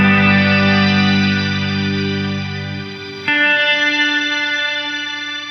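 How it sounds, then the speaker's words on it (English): Reverb from an ambient pedalboard swells in slowly on a long setting, sustained layered tones building and thinning, then a brighter wash blooming in partway through, loud and alone. "you can control how quickly the reverb signal comes in, like this."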